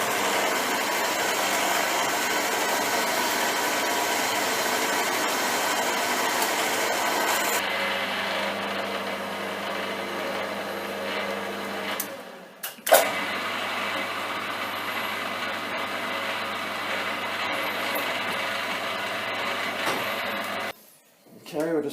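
Drill and tap run into an M6 by 1 hole on a centre lathe, a steady broadband machine whir that changes pitch partway, pauses briefly, then carries on loud and continuous.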